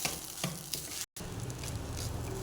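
Rice with ghee is stirred in a hot frying pan, giving a continuous sizzle with soft scraping strokes and a brief cut-out partway through.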